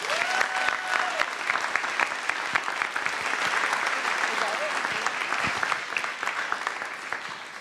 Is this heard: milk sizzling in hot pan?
no